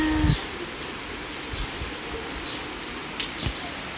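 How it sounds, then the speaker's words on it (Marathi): Steady rain falls outdoors, a continuous even hiss throughout with a few faint thuds and drips nearby. "आल्यापासून पहिल्यांदा पाऊस पडला 5-6 दिवसात"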